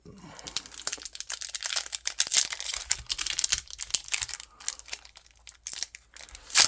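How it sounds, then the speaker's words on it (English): Young Jedi collectible card game booster packs being torn open, with crinkly foil wrapper crackles and sharp ripping bursts coming in quick, uneven flurries close to the mic across the whole stretch. "Sorry about the pack opening noises, guys."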